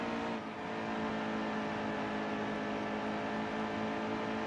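Race car engines from a NASCAR Heat video game, a pack of two Chevys, a Ford and a Toyota battling, drone as a steady, loud whir with a faint dip near the start.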